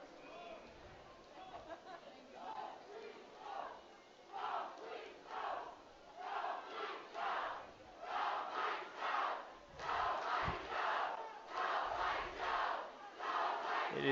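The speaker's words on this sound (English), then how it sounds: "It is hard to hear with this crowd." Spectators at a U SPORTS women's rugby national championship between Queen's and UVic chant and roar in rhythmic surges that swell louder as the crowd noise builds.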